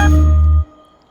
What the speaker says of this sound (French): Je crois que c'est en plus une notification Samsung